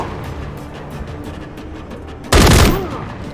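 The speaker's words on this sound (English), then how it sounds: "There's enemy fire." Enemy gunfire in the Call of Duty Modern Warfare 3 campaign starts as faint distant pops over background noise, then a loud close burst or blast erupts near the end and fades.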